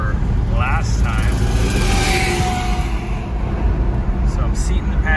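A 1969 Mercury Monterey drives along a road while its brake pads are being seated, its engine and road noise a steady rumble beneath someone talking throughout.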